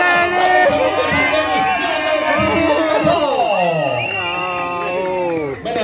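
A crowd cheers and shouts for open-water swimmer Jenny Godoy arriving at the finish of a sea crossing race: loud, close, overlapping voices and whoops, with one rising excited voice standing out, sustained the whole time before tapering at the end.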